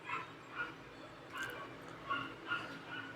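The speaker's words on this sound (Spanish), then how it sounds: "Lamento ese perrito" A small dog yips, barks and whimpers in a repeating pattern of short, mid-distance cries, roughly five bursts over a few seconds against a faint background hiss.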